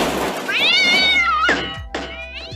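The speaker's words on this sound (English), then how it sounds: "I think it's a real cat sound." A cat meows loudly and close, one long rising-and-falling meow followed by two shorter ones, with soft thumps underneath.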